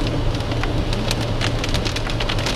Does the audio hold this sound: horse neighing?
no